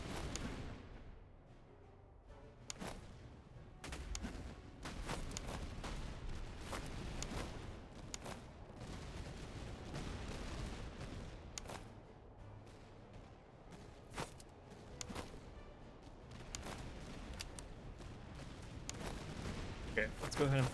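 Musket volleys firing at grenadiers in the Napoleonic strategy game Master of Command, a steady run of sharp cracks and scattered shots throughout, loud against constant battle ambience.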